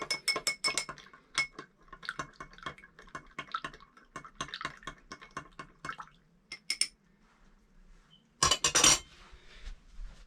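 A spoon stirs a nutmeg cocktail in a glass, with rapid rhythmic clinks against the glass, a brief pause, and then a final burst of close, bright clinking.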